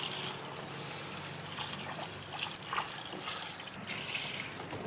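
Water trickles and splashes into a cooking pot for chicken tinola at an outdoor cooking setup, a faint, steady pour with small splashy bursts and no talking.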